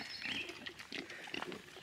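Low, snuffling grunts from farm pigs repeat in short bursts over a steady background hiss, close by and moderately loud, with no talking.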